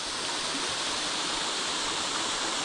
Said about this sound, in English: Wolfclough Waterfall.